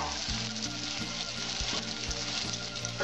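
Potato pieces fry in oil in a covered pan for a Bengali drumstick flower ghonto, a steady close sizzle with a few soft clunks from the pan, with no talking.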